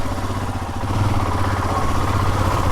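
Royal Enfield Himalayan motorcycle engine idling close by, a steady low, even thump that holds level throughout with a faint mechanical clatter over it, and no voices.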